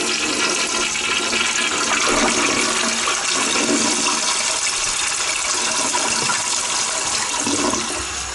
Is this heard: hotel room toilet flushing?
yes